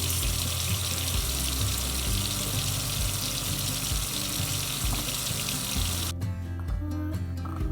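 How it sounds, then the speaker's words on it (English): Tap water runs steadily into a kitchen sink as hands are washed during a family recipe for banana energy balls, a loud close rush that cuts off abruptly near the end. "Wash your hands again."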